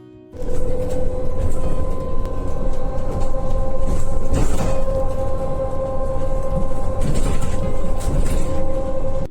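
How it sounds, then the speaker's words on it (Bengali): A metro train in Italy pulls into the station with a loud, steady rumble and rolling rail noise that rises and holds, with brief brake squeals and clanks near the middle and end. "ওই যে আমাদের মেট্রো চলে এসেছে"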